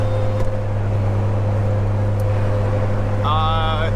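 A Jeep TJ with a grenaded rear differential drives in four-wheel drive, its engine giving a steady low drone and hum from inside the cab, with a brief whining tone near the end.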